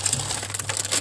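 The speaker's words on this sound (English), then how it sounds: "I keep my all vegetables in plastic bags." Plastic bags holding capsicum and brinjals rustle and crunch briefly inside a fridge, a short close crinkle over a low steady hum.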